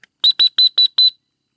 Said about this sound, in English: That's like your come in whistle.